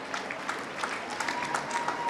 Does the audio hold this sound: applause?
yes